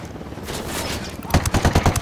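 In Ghost Recon Wildlands, a helicopter's rotor thrum builds, then bursts of rapid gunfire crackle in quick succession near the end.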